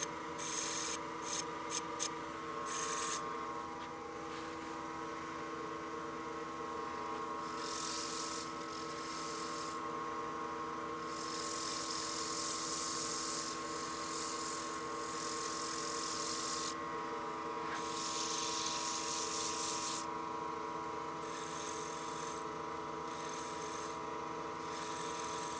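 Sandpaper rubbing steadily over the lid of a wood-turned utility box, a continuous close abrasive hiss that swells and eases in long strokes, with a few sharp ticks at the start.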